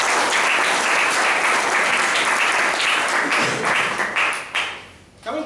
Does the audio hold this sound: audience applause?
yes